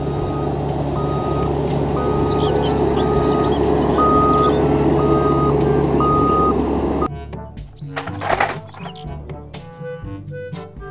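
Toy bulldozer vehicle sounding steady, evenly spaced reversing beeps over a loud engine rumble that cuts off partway through, followed by clattering and knocking noises.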